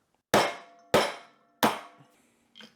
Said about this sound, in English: and then we just hammer it through.